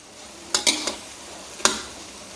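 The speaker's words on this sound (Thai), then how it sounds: "จะผัดให้ไก่สุกเลยนะครับ" A few quick scraping clanks of a utensil against a pan as chicken is stir-fried, spaced irregularly, faint sizzling hiss underneath, with no talking.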